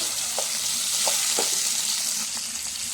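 Mullu vaala fish frying in an oil-filled pan, a steady close sizzle with a few brief clinks and scrapes as pieces are flipped.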